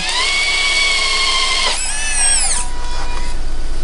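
A loud, whining simulated engine from a model D11 bulldozer's small sound-system speaker hums steadily, dips, then sweeps back up in pitch before settling into a lower drone.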